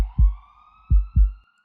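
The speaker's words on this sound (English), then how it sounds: "I could hear the distant sounds of sirens growing louder" Police sirens wail steadily in the distance, with three deep thudding booms breaking in at intervals beneath the siren tone and no voices.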